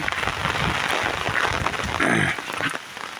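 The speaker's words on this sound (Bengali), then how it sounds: "সকালবেলা বৃষ্টি আমাদের গ্রামে" Morning rain falling over a rural village, a steady diffuse wash of drops pattering on surfaces, even and fairly close, with no talk over it.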